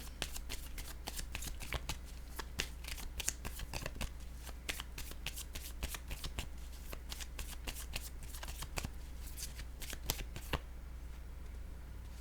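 Playing cards for a card reading are shuffled and laid down in a steady run of quick, close riffling clicks and slaps, fairly loud and continuous, with no voices.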